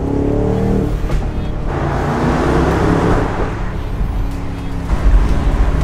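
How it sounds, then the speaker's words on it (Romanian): A BMW M850i convertible driven with the top down fills the cabin with a constant loud rush of wind and road roar, steady throughout with a slight swell near the end. "Probabil o să fie puțin distorsionat sunetul de la vânt, pentru că suntem decapotați"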